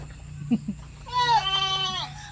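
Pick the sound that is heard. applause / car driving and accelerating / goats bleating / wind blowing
goats bleating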